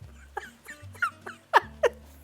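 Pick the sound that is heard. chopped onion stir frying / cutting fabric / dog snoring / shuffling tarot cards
dog snoring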